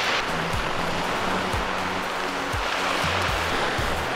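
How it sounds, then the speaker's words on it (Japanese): Rough sea waves roll and surge steadily under heavy rain at a seaside spot, a dense continuous wash with recurring low thumps from the swell. "海も荒れてきましたね。"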